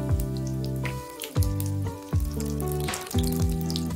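Korean jeon pancakes fry in oil in a pan over medium-low heat, giving a steady sizzle with recurring bursts of crackling as batter is spooned in, with no voices.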